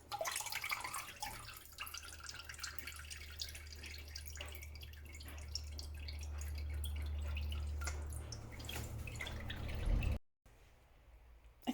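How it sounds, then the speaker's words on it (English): Chicken stock draining steadily from strained solids, a continuous close liquid pour and trickle that runs for about ten seconds before cutting off, with no talk. "So I'm just draining out the solids and I will throw them away."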